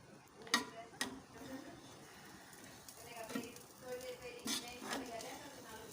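Quiet scraping and clinking of a spoon stirring chicken tikka biryani in a pot, a few sharper knocks against the metal scattered among soft rustling, with a voice speaking now and then.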